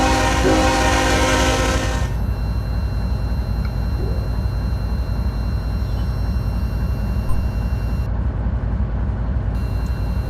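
A CSX locomotive in Trainz Railroad Simulator 2022 runs steadily with a continuous rumble and rail noise throughout. A horn-like tonal blast sounds near the start, and no voices are heard.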